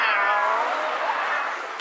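A cat meows in one long, drawn-out call that slowly falls in pitch, loud and close, with no other sounds around it.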